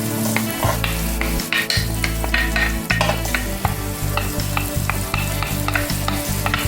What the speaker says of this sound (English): this is stir-fry sardine seasoned rice